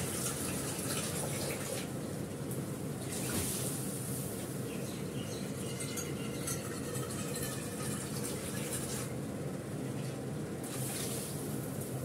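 Water pours steadily into a cooking pot of dal with corn, a continuous gushing, splashing wash that stays loud and even, with no talk.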